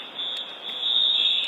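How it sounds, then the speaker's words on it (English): An indoor fire alarm sounds as a steady, piercing electronic tone that holds without a break, loud and close, near an ice skating rink. "the fire alarms are going off over here"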